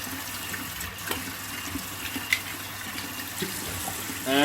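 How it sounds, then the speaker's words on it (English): Cold water runs from a tap over rinsing hands, a steady broadband gush with small splashy fluctuations and a brief surge at the end, moderately close and with no talking. "So what you want to do is put some cold water on."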